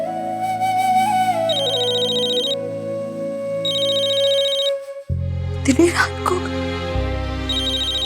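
A telephone ringtone trills repeatedly in a steady pattern, loud and near, with music underneath and a brief voice speaking partway through.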